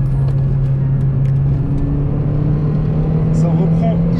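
Peugeot 206 RC engine heard from inside the cabin while accelerating: a steady, loud droning hum that holds a near-constant pitch throughout, with faint voices over it.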